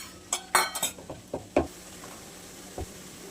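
Peas tipped into a pan while cooking a fenugreek, pea and potato dry vegetable dish, giving a few quick close clinks and rattles against the pan in a short cluster, then one softer knock, with no talk.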